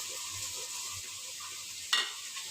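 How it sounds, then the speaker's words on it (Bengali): Chopped onions frying in oil for duck curry give a soft, steady sizzle and gentle stirring, with one brief sharp scrape of a spoon in the pan partway through. "প্রথমে তেল নিয়ে তাতে পেঁয়াজ কুচিটা ভালো করে আমরা ভাজবো।"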